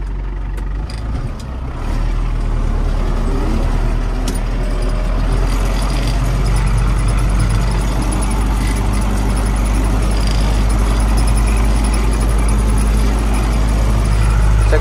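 Tractor engine running steadily and loud throughout while the operator engages gear during wheat spraying, a constant low rumble with no speech.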